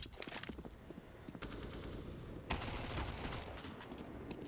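Rapid bursts of MP5 submachine gun fire in a Counter-Strike: Global Offensive pro match, several quick rattling volleys with a denser stretch near the end, fairly faint and without speech.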